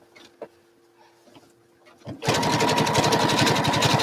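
A sewing machine runs a zigzag stitch with invisible thread on a quilted landscape piece, starting abruptly after quiet handling noises and then whirring loud and steady with a rapid pulsing rhythm.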